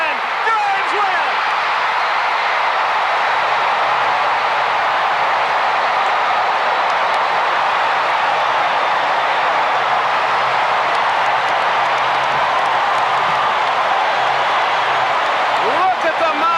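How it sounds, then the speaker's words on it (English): A baseball stadium crowd roars after an Atlanta Braves walk-off home run in the ninth inning, a dense, steady wall of cheering that holds at full volume throughout. "Look at the mob scene at home plate and listen to this crowd."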